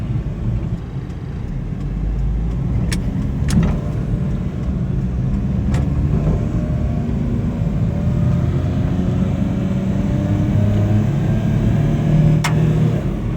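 A 2000 Suzuki Carry 660cc mini truck with automatic transmission and 4WD driving through town, a steady low engine and road drone heard from inside the cab, with a few sharp clicks and rattles.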